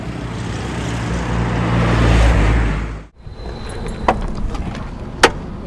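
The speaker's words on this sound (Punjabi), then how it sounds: "ਦੇਖਦੇ ਆ ਕਿਵੇਂ ਰਾਕਟ ਵਰਗੀ ਗੱਡੀ ਦੇ ਇੰਜਣ ਦੀ ਆਵਾਜ਼ ਹੈ" A modified old-school car roars loudly as it accelerates, its engine rising in a sustained build before cutting off abruptly. Quieter clicks and knocks follow.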